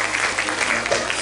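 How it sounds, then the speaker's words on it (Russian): A concert hall audience at a vocal studio's anniversary show gives a short, dense burst of applause, loud and steady for its whole brief length. "Ваши аплодисменты!"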